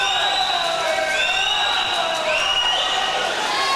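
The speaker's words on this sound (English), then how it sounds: "Milligan fans cheering him on" Milligan fans cheer and shout for a swimmer at the Appalachian Athletic Conference swimming championship, a steady crowd roar with whistles and yells filling an echoing natatorium throughout.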